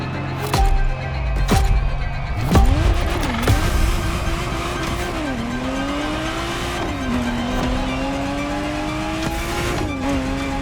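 A Ferrari Testarossa engine in the racing video game The Crew Motorfest, loud and close, revving and shifting through gears with tire squeal and skids at the start, then holding a steady rising drone.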